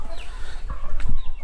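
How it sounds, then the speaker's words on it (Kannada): Salem chickens at a poultry farm in Kundapura cluck and call nearby in a short, busy burst, with overlapping bird sounds and no talking. "ಸೇಲಂ ಕೋಳಿ ಫಾರಂ"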